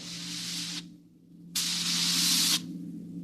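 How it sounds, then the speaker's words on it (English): Two hard-edged bursts of hissing steam vent through a spaceship's steering tubes, one short and one longer, cutting in and out abruptly over a low steady engine hum. "We could hear the desperate bursts of steam through the steering tubes as the Starfire maneuvered to dodge the enemy attacks."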